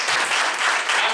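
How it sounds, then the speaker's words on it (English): Church congregation clapping in broad, steady applause that fills the short moment, fairly close and even in level, with no talk over it. "Let's give a big clap."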